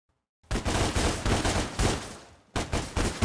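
Gunfire in DmC: Devil May Cry rattles off in dense, loud bursts of rapid shots with a brief break before another volley, and no talk is heard.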